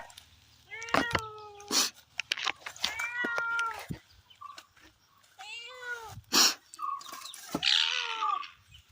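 A cat meows repeatedly, several drawn-out calls close by with short pauses between them and a few sharp clicks in the background.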